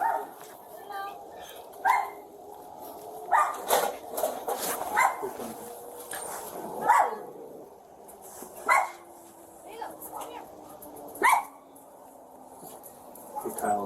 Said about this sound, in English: Here, let me grab the dog.